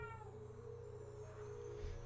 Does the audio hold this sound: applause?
no